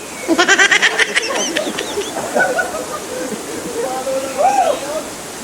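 Waterfall in the middle of a forest, a steady rushing wash of falling water with a rapid series of sharp calls near the start and other voices or animal calls rising over the flow.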